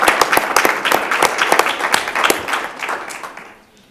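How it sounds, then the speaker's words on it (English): A council meeting audience gives a short round of applause. Dense, fairly close clapping holds steady for about three seconds, then thins and fades away. "Let's give her a round of applause"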